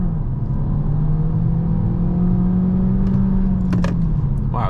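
A 2022 Peugeot 308 GT Hybrid accelerates hard from a launch, heard from inside as a loud, steady drone with a sustained motor whine and a few sharp clicks near the end.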